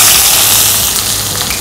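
Onion dropped into hot oil for a paneer curry sets off a loud, steady hissing sizzle that lasts the whole short moment.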